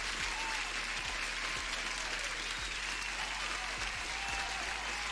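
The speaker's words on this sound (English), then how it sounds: "another applause for everyone and for Wahab as well" Steady applause from a crowd, an even continuous patter of many hands at moderate level with no breaks, accompanied by a low hum and periodic low thumps underneath.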